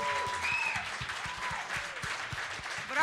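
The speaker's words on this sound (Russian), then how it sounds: "Эти аплодисменты вам, друзья мои" Applause for a band at a rock cafe, moderately loud clapping from a small crowd with scattered rhythmic beats underneath.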